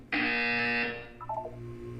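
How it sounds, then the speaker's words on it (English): Loud harsh buzzer from the video game Portal, a single sustained electronic blare lasting under a second, followed by a few short fading electronic tones. "You will hear a buzzer."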